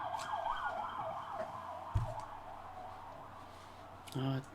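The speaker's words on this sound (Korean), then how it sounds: "제가 큰 길 옆에 있어가지고 아주 삐뽀삐뽀 막 지나가요." A wailing emergency siren sweeps up and down in the distance over steady road noise, with a brief thump and a short horn-like burst near the end.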